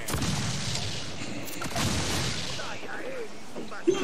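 Ship cannons fire broadside in the Assassin's Creed IV Black Flag game, with heavy booming blasts at the start and again midway, followed by a rumbling tail under shouting voices.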